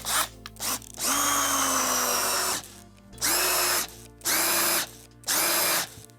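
A cordless power drill, tested blindfolded, whirs in a few short spurts, then runs steadily for nearly two seconds before three more firm bursts, close and loud with no talking.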